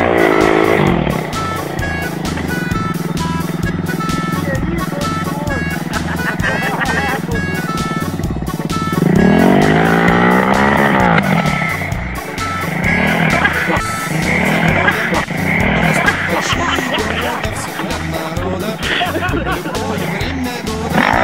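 A vehicle engine runs loud throughout and revs up with a rising, climbing pitch partway through, surging again afterward, while several people talk and shout over it.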